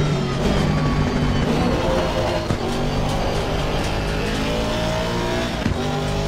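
Race car engine in the racing game Assetto Corsa Competizione at Laguna Seca, a loud, continuous high-revving roar with gear shifts and changing pitch, with no talk over it.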